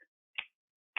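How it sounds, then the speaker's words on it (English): Finger snaps from an actor and entertainer showing off a quirky talent, three sharp isolated clicks spaced apart with silence between, close and clear. "one finger snaps like this. The other finger snaps like this."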